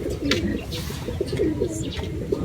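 Racing pigeons cooing at a loft, soft repeated low coos over a steady background murmur, with a few brief higher chirps mixed in.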